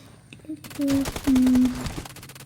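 Bursts of M4 rifle gunfire in the BGMI mobile battle royale game, two short loud volleys about half a second apart over a low game backdrop.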